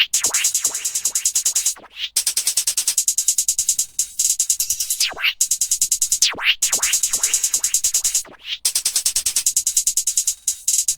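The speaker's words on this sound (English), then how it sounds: "These hi-hats have a few effects on them" Programmed hi-hats with Effectrix effects in a beat play a fast, bright, even ticking pattern that is chopped and swept, with a few sudden gaps and stutters, loud and alone.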